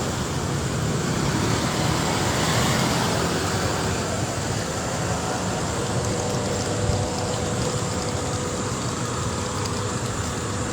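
Dense road traffic in BGC, Taguig, a constant loud roar of car and bus engines and tyres that rumbles on evenly without break, with no voices heard.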